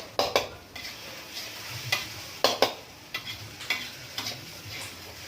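A metal spatula scrapes and clanks against a wok in irregular strokes while mee goreng fried noodles sizzle underneath, close and clear.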